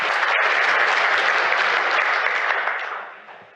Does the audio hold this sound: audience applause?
yes